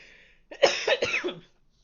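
A short, harsh cough, made of a few quick bursts close to the microphone in an otherwise quiet room.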